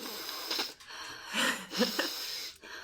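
Someone imitates loud, raspy breathing, a few heavy wheezing inhales and exhales in a slow rhythm, close but fairly quiet.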